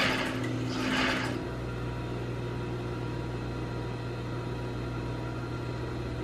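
A sewing machine back stitching fabric for a triangle bikini top runs with a steady, close motor hum, after a brief louder rustle at the start.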